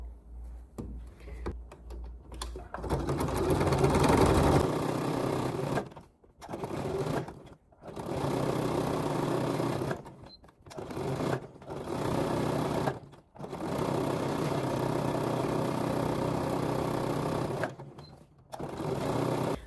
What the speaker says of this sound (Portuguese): eu vou fazer essa costura de 1 centímetro também, exatamente igual em toda a volta